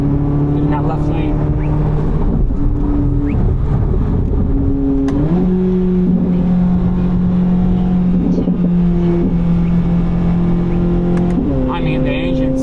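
A Chevrolet C8 Corvette Z06's naturally aspirated engine revs and drones steadily at close range while driven on city streets, its pitch stepping up and down as gears shift, while a person talks over it.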